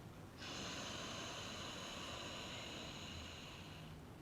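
A calm nasal inhalation during a Kundalini yoga meditation, one long steady airy breath lasting several seconds, close and quiet, with no talking over it.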